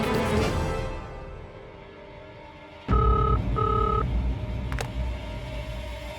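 A telephone being dialed to call home, a muffled tone beeping in two short pulses after a quiet stretch, over a low background hum with a faint later click.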